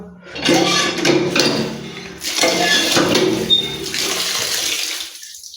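Water splashing and running close by while something is rinsed and washed by hand, a loud gushing stream broken by short pauses and clatter, with no talk over it.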